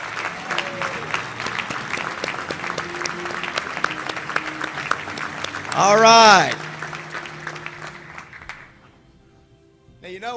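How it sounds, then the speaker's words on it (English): Applause from a Little Rock Touchdown Club luncheon audience for family members of young men, steady crowd clapping with someone speaking over it and a loud whoop or cheer rising midway before it fades. "Let's give them a round of applause."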